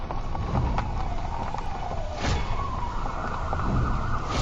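A cartoon ambulance siren wails in a steady, sliding tone that carries through without any talk.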